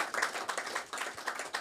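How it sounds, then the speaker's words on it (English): An audience at a panel event on financial incentives for food systems gives brief applause, a short burst of scattered clapping fairly close by, fading after about a second and a half. "please give a round of applause"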